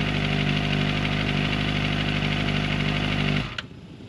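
A Kawasaki ZX25R motorcycle with an Akrapovic exhaust roars loud and steady at high revs, up to the rev limit, for a few seconds, then cuts off abruptly, leaving a faint idle.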